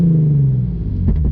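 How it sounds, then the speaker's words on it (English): Hyundai Genesis Coupe 3.8 fitted with ARK downpipes, parked in an empty lot, idling with a low steady rumble before a quick burst of revving near the end, loud and close with no talking. "Let's go ahead and rev it up and see how it sounds."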